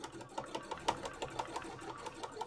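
A sewing machine runs steadily, stitching red thread on a cosplay piece, its needle ticking in a quick even rhythm, close and moderately loud with no talk.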